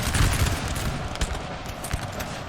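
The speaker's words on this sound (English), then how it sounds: "some nice volleys by Bernadotte" Massed musket volleys crackle in Napoleon: Total War, dense overlapping gunfire in rolling bursts, loud and continuous, with battle din beneath.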